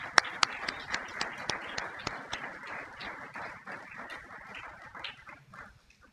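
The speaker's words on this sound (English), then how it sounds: "Let's give them a round of applause." Applause from an audience at an academic hall of fame induction ceremony, scattered sharp claps and a busy patter of hands for several seconds, gradually thinning toward the end, with no speech over it.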